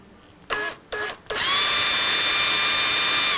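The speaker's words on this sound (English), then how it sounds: "I'm going to try to drill those out and put a screw in there instead." A power drill whirs in two short bursts while drilling into a guitar being built, then runs continuously at a high, steady whine, close and loud.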